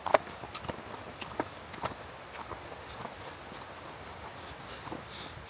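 A horse walking through snow, its hooves clip-clopping in a steady close rhythm with a few sharper footfalls, while a faint voice is heard.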